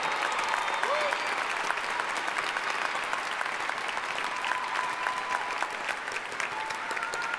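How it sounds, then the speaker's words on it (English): Steady applause from a large audience of graduates and guests at a university commencement ceremony, sustained and even throughout, heard from a distance in a big hall. "Students, please stand and let's give them a big round of applause."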